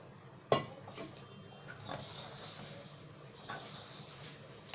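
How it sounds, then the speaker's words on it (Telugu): Jowar flour dough being kneaded by hand for jonna rotte, soft squishing and slapping with a few sharp knocks against a bowl, close and irregular, with no talk. "తగినన్ని వేసుకొని కలుపుకోవాలి, మెత్తగా కలుపుకోవాలి."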